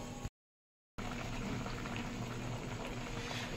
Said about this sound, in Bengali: এবার আমার শুক্তোটা আমি ফুটতে দেব।